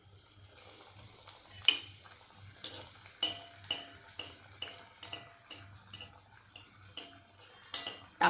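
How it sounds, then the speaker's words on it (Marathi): A poha cutlet fries in oil in a pan with a quiet, constant sizzle, broken by sharp metallic clinks and taps of a utensil against the pan. "आता मी याच्यामध्ये दुसरं पण कटलेट सोडते"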